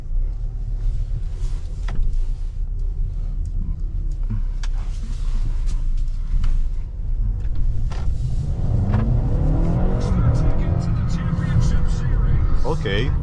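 A 2026 Mercedes-Benz GLA 250 with DCT in dynamic mode accelerates, its engine note climbing steadily through the gears near the end, under talk from the driver.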